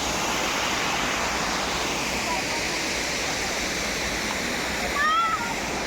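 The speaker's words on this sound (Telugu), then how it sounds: "ఒక చోట పెద్ద వాటర్ ఫాల్ ఉంది." Steady, full roar of a waterfall, a dense continuous rush of falling water with no pauses, close and loud throughout.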